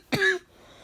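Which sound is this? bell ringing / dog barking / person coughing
person coughing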